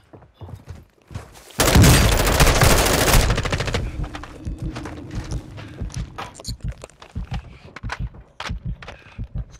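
Video game gunfire: a loud, sustained automatic burst lasting about two seconds, then scattered sharp shots and impacts, with in-game radio voices talking.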